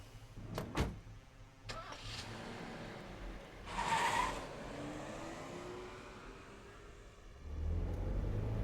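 A car engine in the video game Spirit Hunter: Death Mark hums steadily with a faint whine and low rumble, swelling briefly as it revs, with a few clicks at the start.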